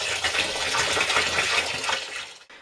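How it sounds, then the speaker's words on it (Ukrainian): Water pours from a tap or container over grape pomace in a vessel, being prepared for homemade chacha. The gushing fill runs steadily and close for about two and a half seconds, then stops abruptly, with no talk over it. "Тепер потрібно їх ледь-ледь залити водою."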